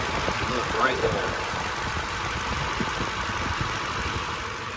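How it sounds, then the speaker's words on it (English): A 2014 Lexus GX460 V8 engine idling with a steady, even hum and broad noise, close by, with a voice faintly present underneath. "Super smooth, super quiet engine."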